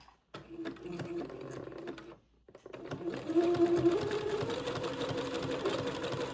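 A sewing machine zigzag-stitches lace to Swiss insertion, running in a buzzing mechanical burst, pausing briefly, then resuming in a longer, steadier run.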